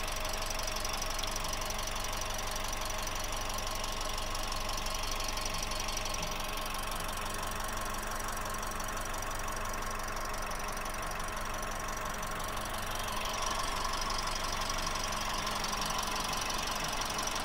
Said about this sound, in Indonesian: Teman-teman bisa dengar juga suara irama mesinnya.